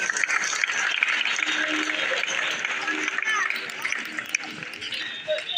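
Applause from an audience at a poetry gathering celebrating the Prophet's birthday in a shopping centre, a steady broad clatter of clapping that holds throughout, with some voices mixed in underneath.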